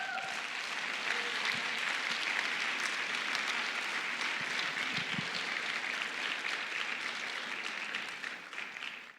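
A Spanish-speaking church congregation at a Sunday sermon gives sustained applause, a steady, fairly distant patter of many hands that lasts about nine seconds before tapering slightly at the end.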